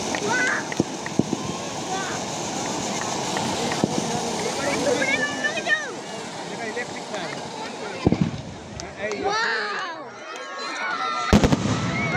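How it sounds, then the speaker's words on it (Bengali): Fireworks bang and crackle over an evening crowd at a police lines annual sports meet, with sharp sharp bursts standing out near the end amid constant chatter and voices talking close by. "এখানে ভীষণ সুন্দর একটা ফায়ার ওয়ার্কস হয়"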